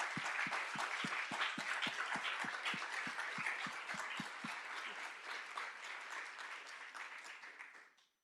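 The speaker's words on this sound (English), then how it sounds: "your appreciation also with a warm round of applause" A warm round of applause from a town hall audience, dense steady clapping with a few sharp individual claps standing out early on, holding strong for several seconds before fading out at the end.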